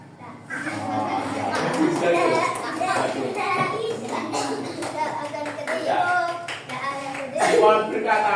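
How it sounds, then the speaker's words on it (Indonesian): Children clapping their hands in an Indonesian classroom game, a dense run of claps mixed with kids' voices and chatter, fairly close and steady throughout. "Ya, tepuk tangan."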